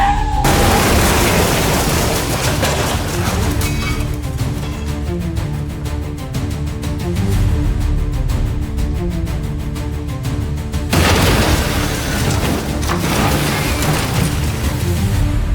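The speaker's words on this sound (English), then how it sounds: "A chain reaction of explosions erupts as gasoline trucks collide, turning the highway into a firestorm." Gasoline trucks collide on a highway, setting off a chain reaction of loud, continuous explosions and roaring fire, with a dense rumbling blast that swells again in a second heavy burst near the end.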